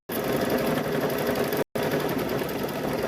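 A quilting machine stitches a Wacky Gnome patchwork quilt in a steady, loud mechanical whir with a fast rhythmic chatter, breaking off for a split second before resuming.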